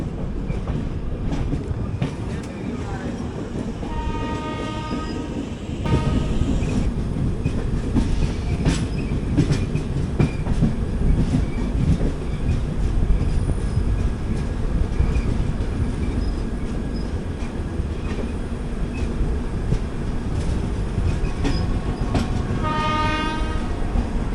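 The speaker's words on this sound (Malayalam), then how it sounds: "മറ്റേ ട്രെയിൻ പാരലായിട്ട് കയറി വരുന്നുണ്ട് കേട്ടോ." Another train runs on the parallel track beside the Kakinada Port–Sainagar Shirdi Express: a steady rumble of wheels that grows louder partway through, with horn blasts near the start and again at the end.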